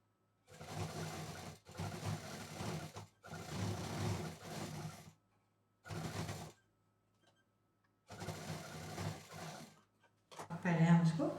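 A sewing machine runs close by, double-stitching fabric along a curve beneath a waistband casing, in several whirring bursts of one to two seconds separated by quiet pauses.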